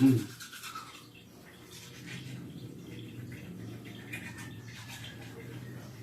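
Someone scrubs their teeth with a new soft-bristled toothbrush, a steady, close, low rubbing that runs throughout after a louder first moment, with faint background noise and no clear talk.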